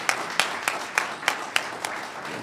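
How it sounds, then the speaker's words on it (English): A handful of people at a Rotary Club meeting clap in a sparse, moderately quiet round, about eight distinct claps spaced evenly like a small group or one pair of hands. "how about a round of applause"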